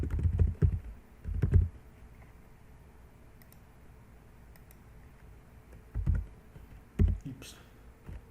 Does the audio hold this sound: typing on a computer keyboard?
yes